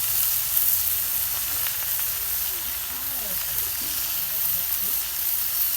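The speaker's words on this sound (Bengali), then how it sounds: "এই যে দেখেন পুঁটি মাছ কিরম করে ভাজা লাগে দেখেন আপনারা" Small river puti fish frying in hot oil in a pan, a steady, dense sizzle with a continuous crackling hiss throughout, moderately loud and close with no talk.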